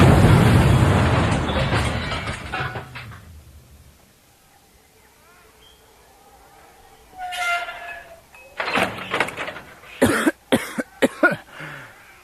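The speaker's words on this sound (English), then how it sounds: "It's a secret torpedo doing magnitude 6 over the speed of sound." A secret torpedo explodes against a starship's shields in an audiobook sound effect: a loud, broad roaring blast that fades over a few seconds, then quiet, followed by a run of sharp crackling bursts and impacts.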